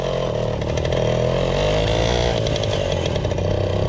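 Romet Motorynka moped engine running, a loud, buzzing two-stroke rattle that idles and revs slightly, steady and close throughout with no voices.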